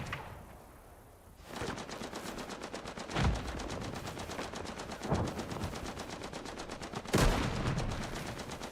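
Sustained rapid machine-gun fire in the World War I video game Gallipoli, a dense, loud, continuous rattle with heavier blasts punching through at intervals, and no talk.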